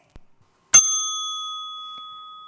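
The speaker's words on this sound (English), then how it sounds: "At the 100th second, a warning bell will be given like this." A single bright warning bell strike at a timed speech competition rings out once and lingers, its clear tone slowly decaying into silence.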